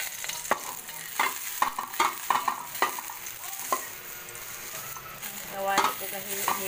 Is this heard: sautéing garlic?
yes